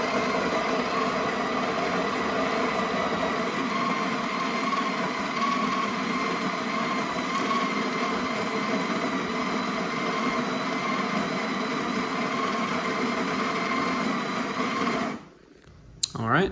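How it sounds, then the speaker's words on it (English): An espresso grinder grinds coffee into a portafilter with a loud, steady whirring motor drone that runs unbroken for about fifteen seconds, then cuts out abruptly into near silence. "tap it once, and let go, and it's going to start grinding"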